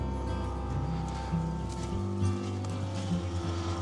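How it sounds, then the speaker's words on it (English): A water heater in a Lumberjack Sorrento pod camper heats water, giving a low steady hum that shifts pitch partway through, with faint rumbling and no talking over it. "you can actually hear the water heating up right now"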